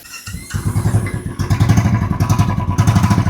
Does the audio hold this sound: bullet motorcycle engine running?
yes